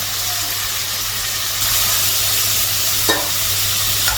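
Fish frying in a pan, a steady loud sizzle and hiss that holds throughout, close by, with one faint clatter near the end.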